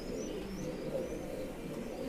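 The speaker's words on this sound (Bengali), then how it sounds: "ভালো এই এক পেয়ার ভালো কবুতর আছে" Pakistani pigeons coo in a low, continuous throaty murmur close by, with faint higher chirps drifting over it and no talking.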